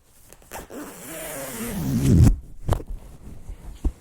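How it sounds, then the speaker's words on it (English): A cycling jersey zipper pulled down in one long rasping stroke that rises and ends abruptly, followed by a few soft rustles and taps of fabric. "Let me get this zipper down in there."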